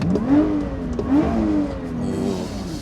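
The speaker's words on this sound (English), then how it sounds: "Downshift, like the sound of the V6 is incredible." Lotus Evora GT V6 engine, lightly supercharged, revving up on a downshift, its pitch rising and falling in a few smooth sweeps, loud and close from start to finish, with no talking.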